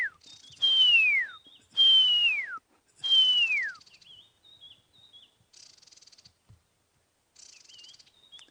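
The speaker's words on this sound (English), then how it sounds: "So all you can hear now, white-browed scrub robins" White-browed scrub robins whistle from bush country near a marula tree: three clear, loud, downward-sliding notes at a steady pace, then softer short chirpy phrases, heard alone in a quiet setting.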